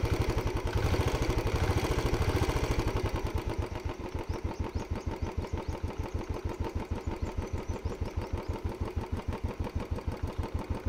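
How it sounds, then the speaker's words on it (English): A small motorcycle engine revs up loudly, then settles into a steady, rapid chugging idle, close by with no voices. "This is when I'm accelerating the engine."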